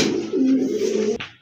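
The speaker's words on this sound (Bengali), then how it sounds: "এগুলো হচ্ছে আপনার গড়ার বেবি, একদম শর্ট ঠোঁটের কবুতর" A pair of short-beaked pigeons coos close by in steady, throaty rolling notes that run for about a second before breaking off.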